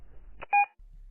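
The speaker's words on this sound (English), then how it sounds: "Leave a message after the beep." A short, clean electronic tone from an answering machine sounds once, a single steady beep of about a fifth of a second after a brief click, then quiet.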